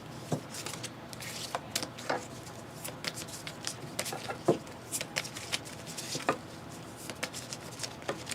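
A deck of site cards for the board game Oath: Chronicles of Empire and Exile being shuffled at a table, with soft, repeated riffling and card taps in a steady, quiet pattern, heard close and alone.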